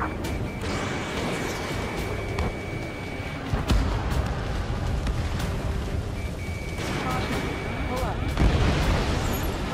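Booms and gunfire rumble through a dense Ace Combat 7 battle scene, layered with heavy explosions and steady combat noise while voices speak over the action.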